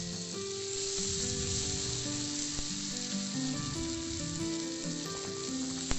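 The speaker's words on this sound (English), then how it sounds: "Seems our fish is fried properly." Fish pieces fry in a pan for a south Indian style fish fry, a steady, fairly loud sizzle running throughout with occasional faint stirring clinks and no voices.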